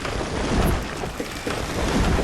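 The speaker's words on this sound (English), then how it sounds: "There's a rainstorm in progress now." Rainstorm in the city-building game Banished, a steady hiss of falling rain with low rumbling swells like distant thunder throughout.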